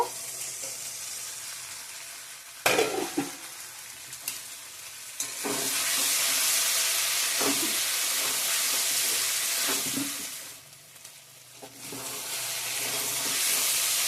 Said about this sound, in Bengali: এখন মাশরুমগুলো দিয়ে দিব